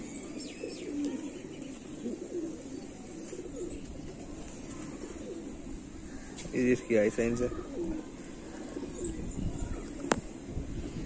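Fancy pigeons kept by a pigeon keeper in R.S. Pura, Jammu, give a brief burst of throaty cooing near the middle, beneath ongoing conversation and faint outdoor chirps.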